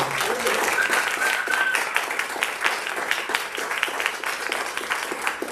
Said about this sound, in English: another big thank you and a round of applause for Nathan Brown